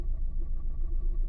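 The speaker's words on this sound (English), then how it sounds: "that's a misfire" Car engine running with a misfire, a low, rough idle with an uneven pulsing throb, close and steady for a brief moment with no voices.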